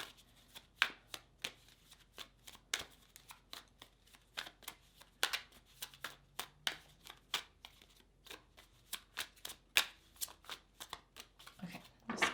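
Tarot cards shuffled by hand during a pick-a-card reading: a quiet, steady run of soft riffling flutters and taps, each burst repeating about once a second for the whole stretch, with no talking.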